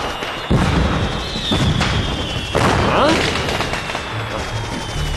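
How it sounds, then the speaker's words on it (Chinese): Several sharp firecracker bangs burst out with crackling tails outside a window in Chongqing, spaced a second or so apart, while a voice briefly exclaims. "这窗外全是鞭炮声"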